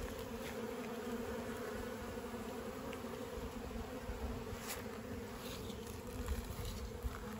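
Honeybees from a blue backyard hive buzz steadily in warm weather, a dense, continuous hum of many insects filling the air with a few louder passes close by.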